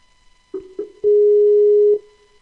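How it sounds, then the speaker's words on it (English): A Skype echo test call connects with three short electronic tones followed by one long, steady tone, clean and alone with no voices. "let's do a echo sound testing service call to simulate getting a call"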